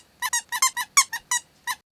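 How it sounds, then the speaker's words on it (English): A toy strawberry gives about nine quick, bright squeaks in rapid bursts, some in close pairs, loud and near with silence between, no voices. "We're going to give the strawberry a squeak."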